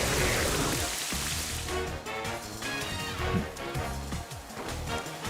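Rain pours in a Pokémon Violet battle, a loud, dense hiss of falling drops on a surface that keeps up the whole time, broken by a few sharper crashing hits.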